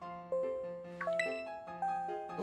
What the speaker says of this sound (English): Ooh, a doorbell.